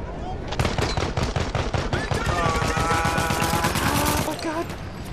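Rapid machine-gun and rifle fire rattles through a chaotic Battlefield 1 World War I battle, dense bursts of shots stacking over rumbling explosions, with a voice speaking briefly amid the din.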